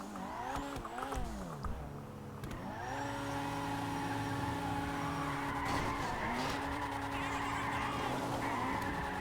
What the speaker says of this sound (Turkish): Supra ile mükemmel drift atılıyor.